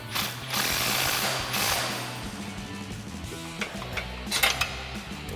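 A 19 mm wrench and swivel socket tighten a bolt on the steering of a Jeep Gladiator JT, producing close metallic clanks, ratcheting clicks and scraping tool noises in irregular bursts, with no talking.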